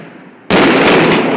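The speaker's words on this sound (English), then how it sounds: "that's a box of fireworks right below my balcony" A box of fireworks going off right below a balcony in Shanghai, bursting in suddenly after a quieter moment and then roaring on as a dense, loud, continuous crackling barrage very close by.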